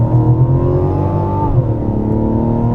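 A 2024 Mazda CX-90 at full throttle from about 45 km/h, its engine droning loud and steady from inside the cabin, the pitch climbing, then dipping briefly as it shifts before rising again.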